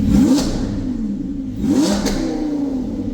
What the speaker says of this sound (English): let's see if we can give her a little baby rev